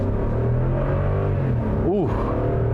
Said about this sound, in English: we'll just floor it and we'll see how it accelerates